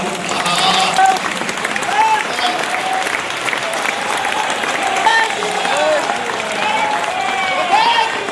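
Loud, sustained applause from a large audience at a poetry event in Raipur, dense clapping rolling on steadily, with a voice speaking over it at times.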